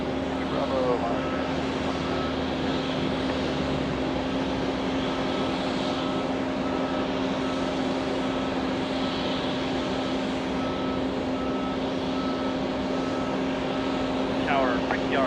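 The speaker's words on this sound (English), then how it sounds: "A330-900. This is the Neos. 7 hours, 40 minutes of flight time, touching down on runway 4 right." A Neos Airbus A330-900 touching down on runway 4 right at JFK, a steady broad roar of jet engines and rushing air carrying on throughout, with tower radio chatter and voices over it.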